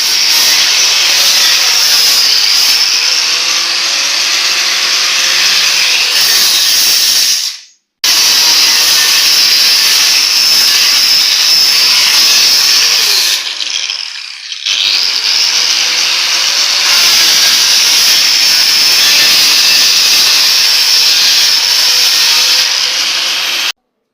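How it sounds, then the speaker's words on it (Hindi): An angle grinder smooths pieces of wood for a door stopper job, a loud, steady high-pitched whine with a gritty hiss. It runs in three long passes separated by brief stops. "अब वहाँ से लकड़ी को उठा करके हम यहाँ पर ग्राइंडर से लकड़ियों को चिकना किया"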